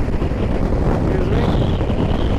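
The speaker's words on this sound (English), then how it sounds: "There's the wind again now from yesterday." Wind blows steadily across the microphone on the Scotland north coast, making a continuous broad rushing roar with no breaks.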